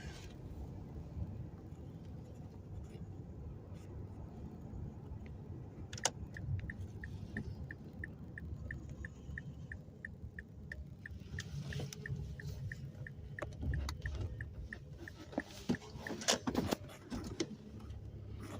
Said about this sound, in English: Giving you a little bit of gas again, because again I'm at a downward angle while I'm backing out of this spot that I was in